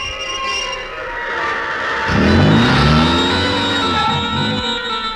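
A car in an Indian film scene pulls away from a stop, its engine rising in a loud, near revving surge midway and then easing as it drives off, with no voices over it.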